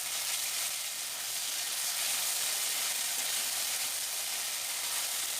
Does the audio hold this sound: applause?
no